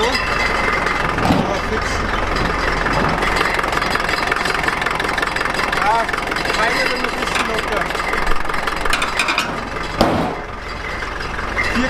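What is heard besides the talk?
Unimog 421 engine idling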